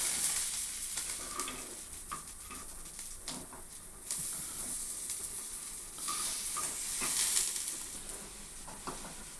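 Gram flour bondas fry in hot oil, a steady close sizzle and hiss with occasional louder bubbling pops, no voices over it.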